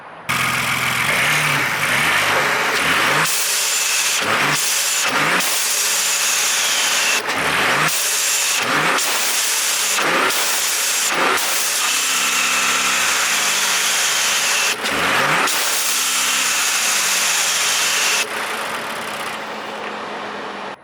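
A Ford Bronco Raptor pickup engine with a K&N drop-in air filter is revved repeatedly and hard against a soft limiter at 4,000 RPM, roaring up and dropping back to idle again and again, loud and close.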